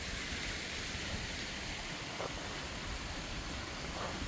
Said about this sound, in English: Gorgeous, gorgeous little waterfall here on this section.